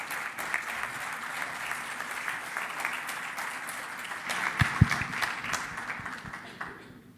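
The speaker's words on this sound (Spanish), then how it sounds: "Lo recibimos a todos con un fuerte aplauso," An audience at a national public-budget seminar applauds to welcome a speaker: dense, sustained clapping from a large room, fairly loud and even, then fading out at the end.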